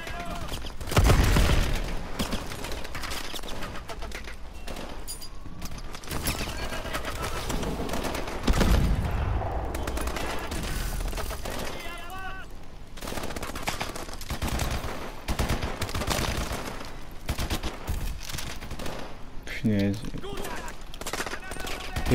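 Gunfire in the video game Call of Duty: Advanced Warfare, repeated bursts of shots and rapid fire across the whole stretch, with someone talking in French over the action.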